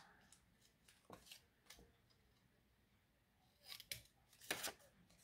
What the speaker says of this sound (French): Je vais venir avec un ciseau